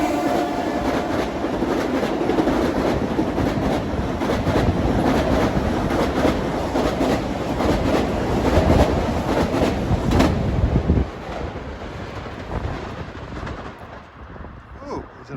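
An eastbound Long Island Rail Road train, likely bound for Huntington, speeds by on track 1 at Mineola station, a loud, continuous rolling roar with rhythmic wheel clatter that cuts off abruptly and leaves quieter ambient noise.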